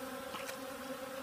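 Honey bees buzz steadily on beehive frames, a close, constant drone with no talking.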